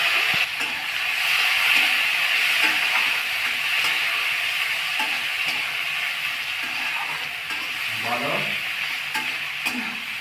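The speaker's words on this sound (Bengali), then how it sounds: "পেঁয়াজ কাঁচা লঙ্কাটা এখন হালকা করে ভেজে নেওয়া হচ্ছে।" Onion and green chilies sizzle steadily in hot oil with bay leaf, dried red chili, cumin and asafoetida, a continuous bright frying hiss broken by occasional stirring scrapes and clinks.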